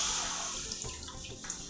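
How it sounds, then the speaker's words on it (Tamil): Half a cup of water runs into a pan to dissolve jaggery for rice and lentil payasam, a faint steady splashing trickle without any talk. "ஒரு அரை கப்பு தண்ணி விட்டுருக்கேன்."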